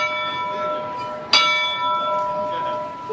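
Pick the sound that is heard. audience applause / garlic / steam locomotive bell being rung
steam locomotive bell being rung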